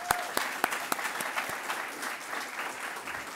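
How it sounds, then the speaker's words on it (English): A town hall audience breaks into applause, opening with several sharp, distinct claps that quickly blend into a steady, moderate wash of clapping before fading slightly. "So give them a round of applause too, please."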